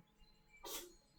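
A single short sneeze bursts out in a quiet room, bright and breathy, lasting only a moment.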